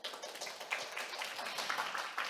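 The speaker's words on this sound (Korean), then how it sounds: "축하의 박수 부탁드립니다." An audience at an awards ceremony for a data competition applauds the winners with a steady patter of many hands clapping, moderately loud and continuous.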